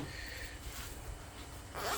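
Zipper pocket on a 5.11 get-home bag opening in a short, steady rasp that runs close and fairly quiet for about two seconds, ending in a slightly louder burst of handling.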